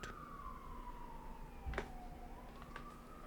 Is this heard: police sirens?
yes